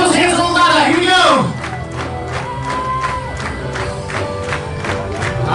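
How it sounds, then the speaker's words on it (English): Wedding guests clap and cheer in a lively hall, with a burst of cheering and shouts at first, then steadier clapping that carries on beneath an announcer's amplified talk. "Come on, clap those hands a little louder."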